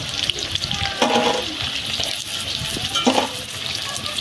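Spiny gourd slices coated with rice sizzle steadily in hot oil in a pan, with loud bursts of crackling stirring about once and three seconds in, and no talking.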